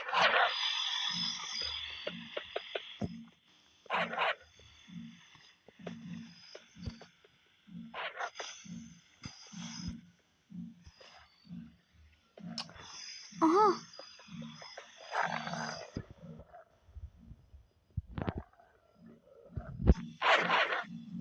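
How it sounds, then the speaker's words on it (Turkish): Dogs growl in the Westbound video game during an animal hunt, with repeated low rumbling bursts and harsher snarls recurring through the scene. "Köpekler yine burada."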